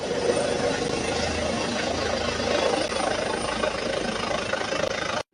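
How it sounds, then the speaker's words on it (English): Helicopter flying over Xingya 2nd Hospital, a continuous deafening rotor and engine roar, steady and close throughout before cutting off abruptly. "The helicopter at Xingya 2nd Hospital has been flying back and forth 4, 5, 6 times. The roaring noise is deafening."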